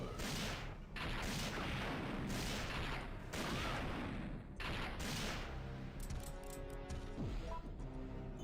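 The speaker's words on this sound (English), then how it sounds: "it's time to use 6 more magnum bullets again" Magnum gunfire in the Resident Evil 3 video game, heavy booming shots arriving in a rapid series of loud blasts with short gaps, followed by ringing, clattering aftermath near the end.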